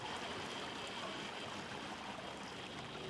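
Continuous trickling, rushing water from a leak in a scene of the Chernobyl TV series, a steady faint wash of flowing water with no voices.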